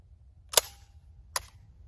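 Two sharp shots from a Black Aces Tactical Pro Series S Max shotgun, sounding as brief cracks a little under a second apart against quiet background, with no talk.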